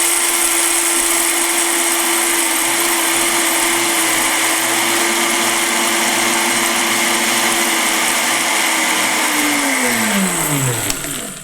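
An electric grinder runs loud and steady on coffee beans at a high speed setting for about ten seconds, its motor whine holding constant before spinning down at the end.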